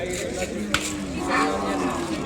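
Calves lowing at a busy cattle market for six-month to one-year-old calves, a drawn-out moo rising over steady crowd murmur and scattered voices, with a sharp knock partway through.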